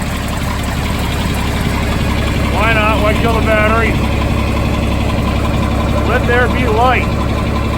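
A 1970 John Deere 4000 tractor engine idling nearby with a steady, low, continuous rumble throughout, while someone talks over it.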